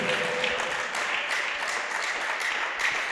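A church congregation breaks into sustained applause mixed with ululation, a dense, steady wash of clapping and cheering that fills the space for the whole stretch without a break.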